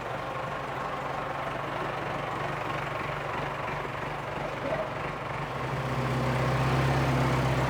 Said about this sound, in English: all there is left to do now is hoist the engine out with the tractor